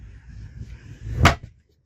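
A locked cupboard in a camper van is opened, giving one sharp click-and-knock of the latch and door near 1.25 s. Softer handling rustle comes before it, and no one talks.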